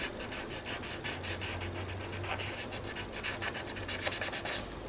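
Steady scratchy rubbing as black paint is worked into a mixed media artwork, a continuous quiet abrasive texture with a faint low hum beneath, no talk.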